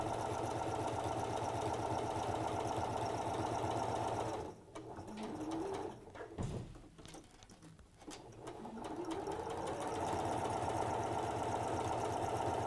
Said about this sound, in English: So this is just sewing the other side, again using that line as your marker.